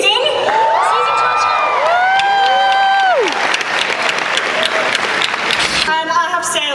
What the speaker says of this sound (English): I love a room where Tony Hale gets a bigger cheer than Nicole Richie in the shower